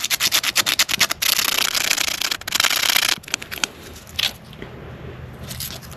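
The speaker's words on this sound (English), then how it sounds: "I got a little piece of 80 grit. We'll slide it right in here, and we just want to get that contact sanded down." Coarse, rapid rubbing strokes of 80-grit sandpaper scrubbing a spark plug contact down to bare metal on a 125 Blazer, loud and close in steady bursts, then softer, scattered scraping.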